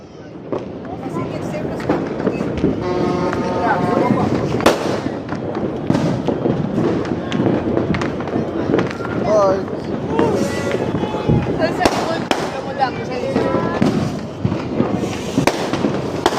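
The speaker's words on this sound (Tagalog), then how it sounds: "Do we still have more fireworks to light?" Fireworks crackle and pop in rapid bursts, with sharp bangs scattered throughout, while people talk and shout over the noise.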